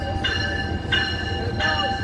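An approaching Metrolink commuter train, heard as a steady rail rumble with three brief tonal horn-like blasts rising above it at regular intervals.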